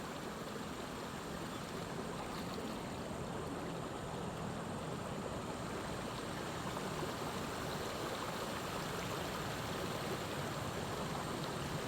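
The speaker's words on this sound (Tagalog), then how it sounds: "Malamig po itong tubig na itong sapa. At galing pong bundok kaya malamig." A cold mountain stream runs over mossy, slippery rocks, a steady broadband rush of flowing water that stays even and continuous throughout with no voices.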